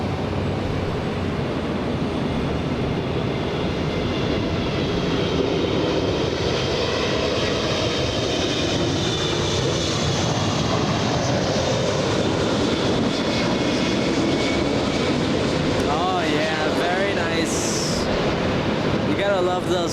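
A Boeing 777-200 jet with Pratt & Whitney 4000 engines roars steadily and loudly at Los Angeles International Airport, a broad sustained engine rumble and whine that holds for the whole stretch without voices.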